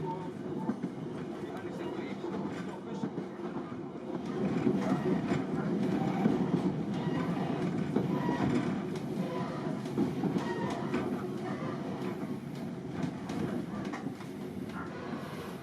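A 1938-era electric train runs on the Isle of Wight railway, its steady rumbling roll and rhythmic wheel clatter heard from inside a carriage, swelling slightly midway and holding at a constant, fairly loud level.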